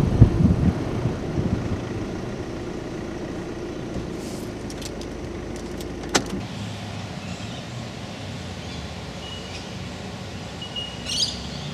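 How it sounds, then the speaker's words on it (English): A car pulls up outside, its low engine rumble running for several seconds before cutting off abruptly, followed by quiet outdoor ambience with faint birds and a few light knocks. "I thought I heard your car."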